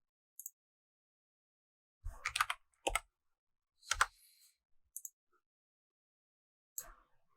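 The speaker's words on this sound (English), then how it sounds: "Or we can type it in manually just to be exact." Keys tapped on a computer keyboard in short, scattered bursts separated by silence, quiet and close with no talk.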